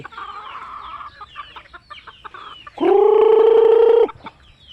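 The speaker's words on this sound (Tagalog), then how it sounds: "Ayan yung ating manok." Chickens cluck nearby, then one loud, sustained crow-like call rings out for about a second before fading back to quiet clucking.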